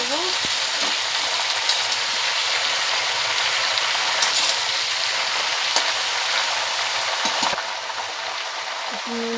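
Vegetables for a vegetarian dish fry in a pan and are stirred, making a loud continuous sizzle with occasional scraping clicks throughout.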